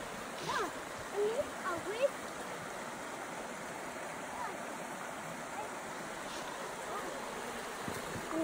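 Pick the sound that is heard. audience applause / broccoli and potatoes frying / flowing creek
flowing creek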